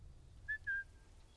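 In Sniper Elite 5, the player character gives two short, high whistles in quick succession, the second held slightly longer, over a faint low ambient hum with no talking.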